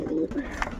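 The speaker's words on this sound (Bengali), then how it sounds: "সব কবুতরগুলি আপনাদেরকে শক করাচ্ছি, দেখো খুবই সুন্দর স্ট্যান্ড কোয়ালিটি এবং খুবই ভালো কবুতর।" A single short, low coo comes from a pigeon, one of the Teddy and Sylheti breed birds, close by and over almost at once.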